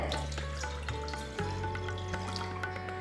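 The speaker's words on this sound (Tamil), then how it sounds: "இதில் நான் ஒரு கப் தண்ணி ஊற்றுறேன்" A cup of water poured into a deep saucepan while making sakkarai pongal: a steady splashing, trickling stream with small drips, continuous and close.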